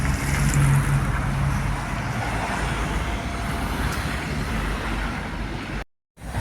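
Steady, loud road noise with a low rumble of passing vehicles and wind, continuous throughout, briefly cutting out near the end, heard through open car windows in Bauska, Latvia.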